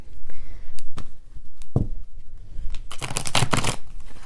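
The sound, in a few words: shuffling cards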